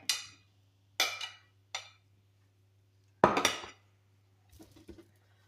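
Cutlery clinks against a bowl in several short, separate bursts while a mushroom, orange and corn salad is mixed, with a low steady hum underneath and quiet gaps between strokes.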